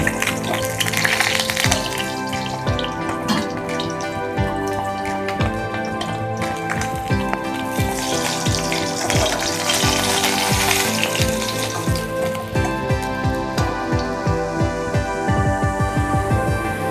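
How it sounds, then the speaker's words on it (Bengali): Turmeric-and-salt-coated tilapia fish frying in hot oil, a dense continuous sizzle with crackles and spattering, close and steady throughout. "আমি মাছগুলো ভেজে নিচ্ছি।"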